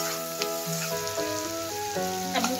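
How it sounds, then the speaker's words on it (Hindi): Masala with turmeric sizzles and fries in a pan, a steady crackling hiss with a faint tonal hum underneath. "अब मैं इसको थोड़ा सा भून लूंगी, फिर मैं आलू को डालूंगी।"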